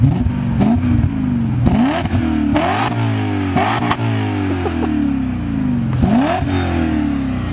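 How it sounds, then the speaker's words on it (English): A BMW M5 with a tube-style aftermarket exhaust revs repeatedly up close, each blip climbing sharply then falling back into a deep, rumbling idle, loud throughout with no voices. "Want an exhaust clip? Yeah, let's hear the tubie."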